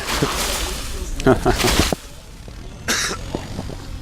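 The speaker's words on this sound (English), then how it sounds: "Nice cough." A sharp cough lands right on the microphone during a 2012 GSL Season 2 StarCraft 2 broadcast, loud and close, with a second burst shortly after over background game commentary and talk.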